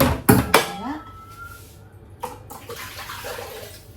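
Water runs briefly into a pot holding eggs, with sharp clanks of cookware at the start and a soft watery trickle afterward, close by.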